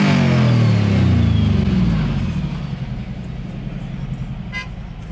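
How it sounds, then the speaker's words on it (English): Car engine revving loudly up close on a Las Vegas street, a strong roar that peaks early then settles into a lower idle rumble, with a brief horn-like toot near the end. "Can you rev it up for me?"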